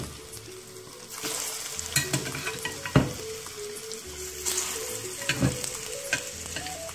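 Bananas, not plantain, frying in hot oil, a steady close crackling sizzle that swells after the first second, with sharp spatters and a loud pop near the middle.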